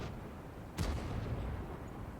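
A tank fires a HESH shell in a tank video game during a competitive match, giving a single sharp booming report with a short rumbling tail over steady background noise.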